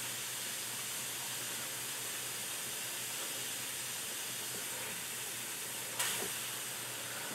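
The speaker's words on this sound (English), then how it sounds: "That means that steam's getting all the way through." Steam hissing through the neck heel of a Yamaha FG230 12-string acoustic guitar, a steady broad hiss with a faint bubbling sizzle underneath, close and even, and one brief sharp click near the end.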